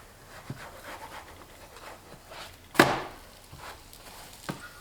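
A meat-filled flatbread is flipped in a hot pan on a farmhouse stovetop: one sharp clatter near the middle, surrounded by faint sizzling and a few soft knocks of the utensil.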